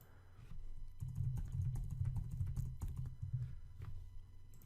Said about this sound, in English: And now you can start typing whatever you want.